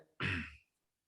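One short, raspy throat clearing or brief cough from a man during an online Quran-reading lesson, close and fairly loud, with silence after it.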